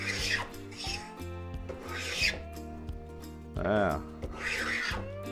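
A No. 120 block plane takes a coarse but consistent shaving off wood in a few close rasping strokes, with a short spoken exclamation between passes.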